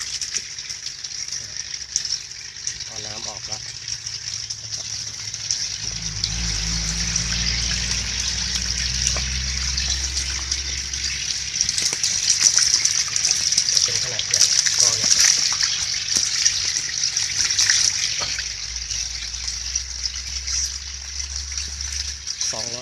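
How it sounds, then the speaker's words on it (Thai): Water gushes and trickles steadily into a tarpaulin catfish pond as it is refilled during a water change. The flow is close and continuous, swelling louder in the middle, and someone talks at times. "ตอนนี้ผมเปลี่ยนน้ำใหม่"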